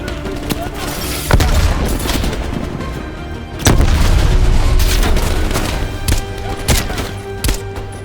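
A grenade explodes in the Call of Duty Black Ops Cold War campaign, heavy booms landing amid ongoing gunfire with a couple of loud blasts standing out, while soldiers shout over the battle.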